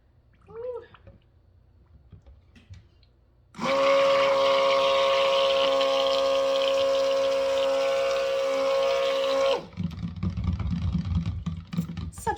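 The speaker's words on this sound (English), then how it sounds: "I'm going to mix it up with a stick blender" Stick blender whirring steadily through cold process soap batter for several seconds, loud and continuous, starting and stopping abruptly, with brief handling noises around it.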